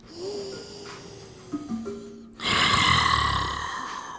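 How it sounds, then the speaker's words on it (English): During a yoga stretch, a deep audible breath is drawn in and then released in a long, strong exhale, close and alone without talk. "Big breath."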